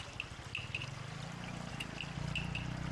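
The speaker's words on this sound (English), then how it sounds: "There's quite a number of shops that have fountains and garden ornaments with running water, and they're pretty cool, they're pretty nice to see and to listen to." Running water from fountains and garden ornaments at an outdoor garden market in Chiang Mai, a steady close trickle and splash with faint intermittent clinks over a low rumbling background.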